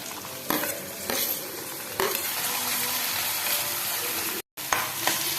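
Onions sizzle steadily in a hot pan as a spoon stirs and scrapes them in repeated strokes, loud and close, with no talking.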